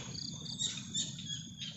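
Evening ambience beside a rice field at dusk: a steady chirring chorus of frogs and insects fills the air, with faint calls layered on top and no voices.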